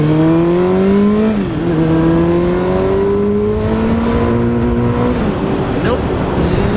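A Suzuki GSX-R 600 sportbike with a new fuel pump is ridden on a test ride. Its engine climbs through the revs in a few rising pulls, and gear changes break the climb. Wind rush stays constant, and a voice speaks over it.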